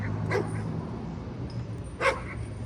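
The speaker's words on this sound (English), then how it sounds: "A dog is barking at me" A dog barks twice outdoors, two short, moderately distant yaps about two seconds apart over a steady low background hum.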